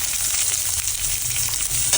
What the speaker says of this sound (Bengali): দিয়ে ভাজা ভাজা করা হচ্ছে। এরপর দেওয়া হচ্ছে পেঁয়াজ